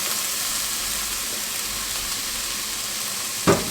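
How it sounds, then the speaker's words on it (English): Spices toasting in a hot pan for a spiced beef stew give a steady, close sizzle with a fine crackle throughout, broken once by a short sharp clatter near the end. "We're going to toast up these spices for about a minute or so."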